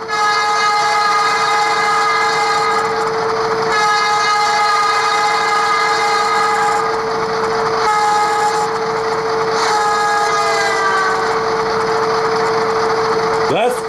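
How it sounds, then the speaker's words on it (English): Fast Doppler horn effect from an ESU Loksound Select decoder in a Rapido GMD-1 model locomotive, a loud sustained multi-tone horn blowing continuously with pitch bends and brief breaks, close and steady throughout. "Function 11 is the Doppler horn fast."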